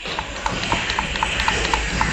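A horse in the video game Red Dead Redemption 2 trots through a snowy area, with hooves clip-clopping in an even, rapid rhythm over a steady background bed, close and clear, with no talk.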